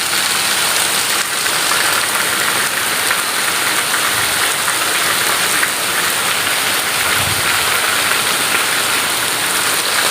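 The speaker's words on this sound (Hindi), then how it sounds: "बहुत ज़्यादा यहाँ बारिश है और बहुत प्यारा मौसम है" Heavy rain pours steadily over a village, a dense continuous hiss of drops on surfaces, loud and unbroken throughout with no voices.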